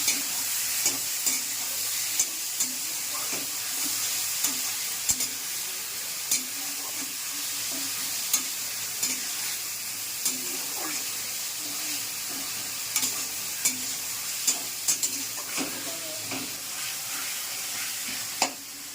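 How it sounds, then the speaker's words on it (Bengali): Grated onion and garlic frying in oil in a pan for a Bengali muri ghonto, a constant bright sizzle and hiss with regular spatula scrapes and taps against the pan, close and steady. "পেঁয়াজ রসুনটা এই ভাজা ভাজা হয়ে এসছে"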